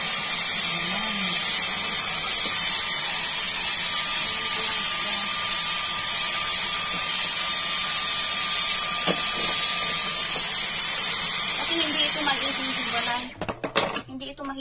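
A vacuum cleaner whirs steadily and loudly while cleaning the dust off an electric fan, a continuous high-pitched motor whine that cuts out into clattering handling noises near the end.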